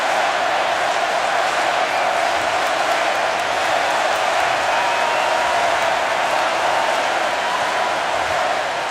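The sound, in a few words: Miami crowd cheering at Orange Bowl football game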